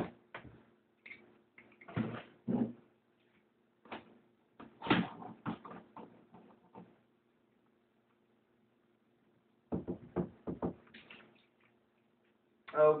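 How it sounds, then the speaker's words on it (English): A locked door's lock being forced open quickly, heard as quiet, close metallic clicks and rattles in short clustered bursts separated by near-silent pauses. "How quick and how quiet was it to open that lock?"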